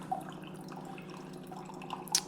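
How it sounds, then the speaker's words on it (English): A countertop reverse-osmosis filter with UV and alkaline stages trickles purified water into a glass, making a faint, soft dribble with a few light drips near the end. "So that will be putting the purified water directly into your glass."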